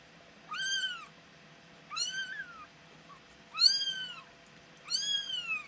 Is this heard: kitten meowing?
yes